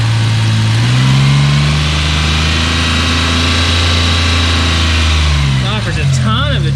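A Suzuki Cappuccino engine running on a Microsquirt is revved up, holds a loud steady drone close by, then drops back toward idle, with a voice talking over the end.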